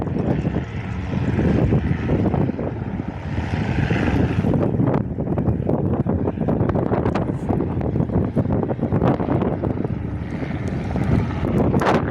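A blue Cessna C-172 trainer at an airfield goes around on a windy day, its propeller engine droning steadily and loudly throughout, heavily buffeted by wind rumble across the microphone.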